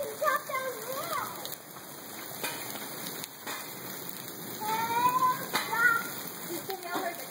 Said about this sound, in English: I think now it's turned to rain now.